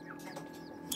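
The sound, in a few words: small chick peeping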